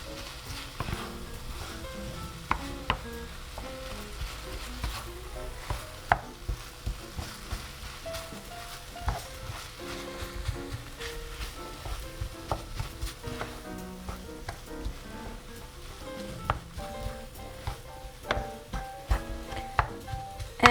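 Cooked rice being stirred and mixed into kimchi fried rice in a pan, giving a steady low scraping and soft sizzle with scattered spoon clicks and taps throughout, close and alone.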